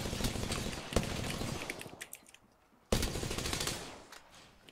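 Rapid gunfire from a weapon in the video game Apex Legends: a dense burst of shots, a brief lull, then another sharp volley that tapers off, with a few faint sharper cracks between.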